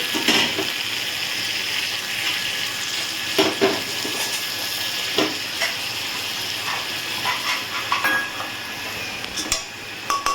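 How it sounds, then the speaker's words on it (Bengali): Masoor and chana dal sautéing in oil in a pan for a papaya and dal curry, with a steady sizzle and scattered scraping and clicking spoon strokes throughout, close and unaccompanied by speech. "এবারে আমি এই মুসুর ডাল আর ছোলার ডালটা দিয়ে দেবো। দিয়ে আর একটু কষাবো।"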